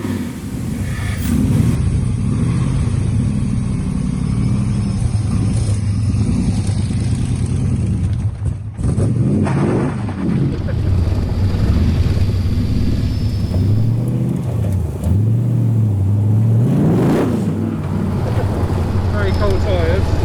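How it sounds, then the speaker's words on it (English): A Model A pickup hot rod drives along with a loud, continuous engine drone that rises and falls with the throttle. Strong wind noise buffets the microphone throughout. "So I think we're going to experience the hot rod now"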